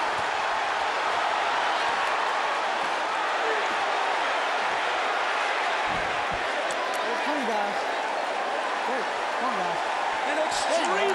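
A boxing arena crowd roars in a steady, dense wall of noise during the Mike Tyson versus Danny Williams heavyweight fight, with faint shouts rising above it.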